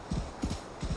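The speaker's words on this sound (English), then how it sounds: "What are these sounds? Really, horse?" Rhythmic horse hoof clip-clops in Assassin's Creed: Valhalla, three paired beats at an even trotting pace, muffled and low, over a faint steady background hum.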